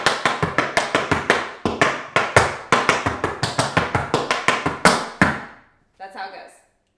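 Tap dance steps, a shuffle diddle leading into a cramp roll, ring out as a long run of sharp, rapid metallic taps in quick clusters, close and loud, then a brief pause and a few softer sounds at the end.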